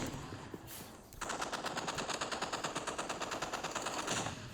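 Rapid automatic gunfire in a video game: a quieter start, then a loud, sustained burst of evenly spaced shots that runs for about three seconds before trailing off.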